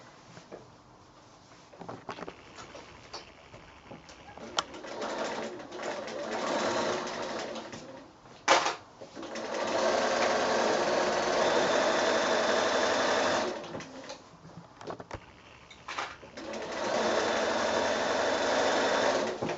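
A sewing machine runs in steady bursts while stitching 1/4 inch seams on 100% cotton bedding fabric, a continuous motor whir with brief pauses between runs, close and fairly loud.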